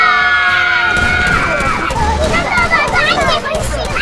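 A video game crowd shouting and cheering together, loud and continuous, with excited voices rising over a busy, game-like background during zombie combat.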